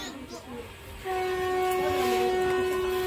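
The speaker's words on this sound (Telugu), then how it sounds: "హార్న్ కూడా వేసారు." A passenger train sounds a loud, steady horn blast as it pulls out of Kotala station, the sustained tone starting about a second in and holding to the end over rumbling rail noise.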